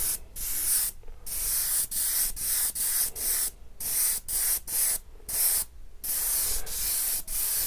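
An airbrush sprays UV body paint in a steady close-up hiss, broken by short pauses as the trigger is released and pressed again over and over.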